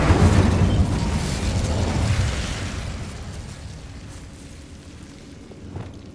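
A fire spell cast in Hogwarts Legacy sets off a loud whooshing burst at once, then a roaring, crackling blaze that slowly fades over several seconds with no voices.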